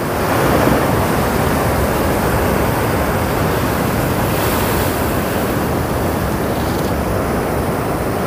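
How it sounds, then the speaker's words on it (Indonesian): Ocean waves break on the beach at Ngobaran on the Javanese coast, producing a loud, continuous wash of surf mixed with wind buffeting the microphone. "Dengar nggak teman-teman? Ombaknya."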